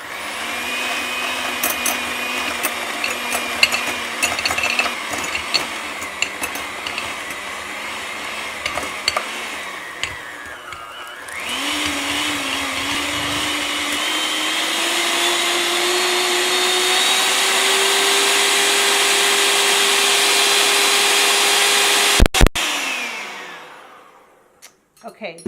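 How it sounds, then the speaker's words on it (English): Electric hand mixer running on high speed, beating butter in a bowl for cookie dough: a steady loud whirring drone that shifts pitch partway through, then rises and holds before cutting off near the end. "I'm going to put this electric mixer on high. It's going to make a lot of noise"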